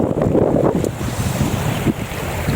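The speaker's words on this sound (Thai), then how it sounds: "เสียงคลื่นซ่าๆเลยครับ ให้ท่านผู้ชมนะครับ ได้ฟังเสียงคลื่นน้ำนะครับ" Rough, blustery wind buffets the microphone over a steady wash of choppy water at Huai Mai Teng reservoir in Ratchaburi, Thailand, loud and continuous with no voices.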